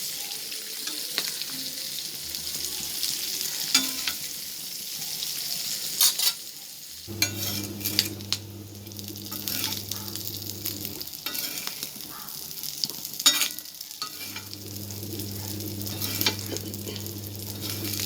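Steady sizzling of anchovies roasting in a heavy-bottomed pan, with intermittent scraping and stirring clatter and a low hum in the background; no voices.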